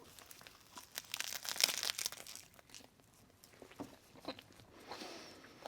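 Crinkly plastic being pulled and torn open around a 7-Eleven rice and seaweed snack, with bursts of crackling and crumpling that swell, pause, then pick up again close by.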